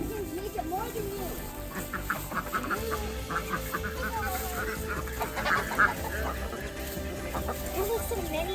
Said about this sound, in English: And baby chickens.